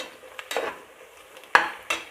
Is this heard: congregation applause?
no